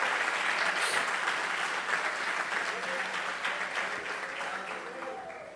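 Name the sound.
congregation applauding in church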